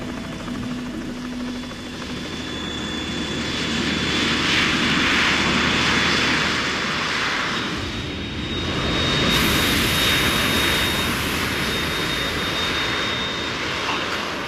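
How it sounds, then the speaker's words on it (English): In the Metal Gear Solid 2 video game, a Harrier jet's engine roars loudly and steadily, with a thin high whine running through it; the roar swells twice and a sharp, bright hiss cuts in near the end. "We're in trouble. It's the Harrier."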